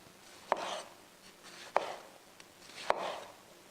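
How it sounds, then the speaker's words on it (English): A knife slices thick tomato pieces on a cutting board with three sharp, spaced thuds, each followed by a soft juicy cutting rustle, close and quiet. "we're going to cut the tomatoes really thick"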